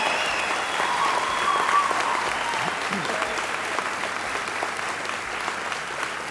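An audience at a medical school white coat ceremony breaks into sustained applause, a broad, even clapping that fills the hall throughout with little variation and no talk over it.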